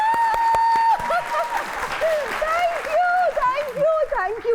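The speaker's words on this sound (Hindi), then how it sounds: "ताली बजाएं" A crowd applauds on a stage show, with clapping rising and falling beneath a prominent voice that talks or sings over it throughout.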